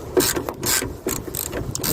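A ratchet loosens car hood bolts, giving several quick, close bursts of clicking with short pauses between strokes and no speech.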